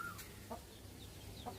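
An irritated laying hen gives a few short, sharp clucks spaced apart, fairly close but quiet, over a low steady background.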